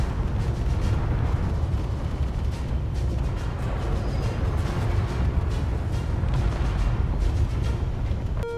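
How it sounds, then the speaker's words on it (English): An explosion on a spaceship deck in the video game Space Engineers: a loud, sustained roar with deep rumbling and scattered crackling bursts, continuous throughout without speech. "Explosion on deck 3."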